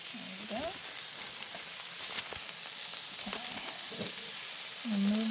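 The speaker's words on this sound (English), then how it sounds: "Move this around some in the wok so it can all get a little bit of the heat." Cabbage slaw sizzles and crackles in a hot wok, a steady frying hiss with occasional scraping stirs, fairly soft and close.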